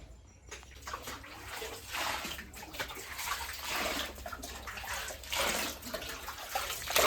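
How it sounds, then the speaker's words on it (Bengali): Lentils (dal) are washed by hand in water, with sloshing swirls and splashes that rise and fall in repeated bursts, fairly close and moderately quiet, with faint birdsong in the background. "মা ডালটা ধুচ্ছে।"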